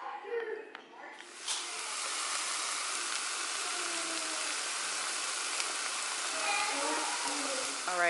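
Mushrooms, eggs and spinach fry in bacon fat with a steady, close broadband sizzle and hiss that holds evenly throughout, a few faint clinks and a short sharp tap near the start.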